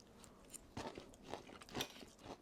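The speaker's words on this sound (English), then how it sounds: "And you can hear the crunch." Bites into Frank's Red Hot battered, brine-soaked fried perch give several sharp, close crunches, spaced irregularly over a quiet background.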